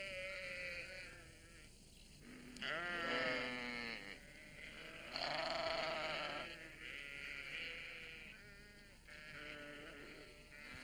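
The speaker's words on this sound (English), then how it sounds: "The sheep were glad to see them." Sheep in a snowy animated countryside bleat in several drawn-out, wavering calls, some overlapping, at moderate distance over a soft musical background, with no talking.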